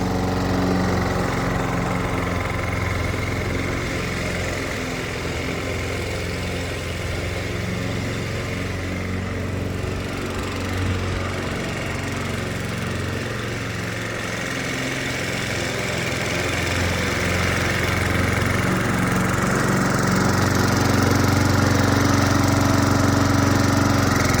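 A gas-powered lawn mower drones loudly and steadily nearby for the whole stretch, its engine noise swelling slightly toward the end, with no voices.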